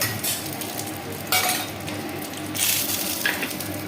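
Cumin seeds, dried chilli and a bay leaf sizzle in hot oil for moong dal with fish head, a steady close frying hiss with bursts of crackle and a few light clinks from stirring.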